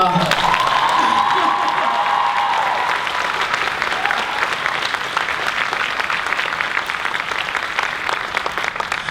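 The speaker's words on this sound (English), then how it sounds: "You can clap because I need some energy" A large audience at a VidCon 2015 creators keynote claps loudly and steadily, with some cheering mixed in and faint voices underneath, the applause holding strong for about nine seconds.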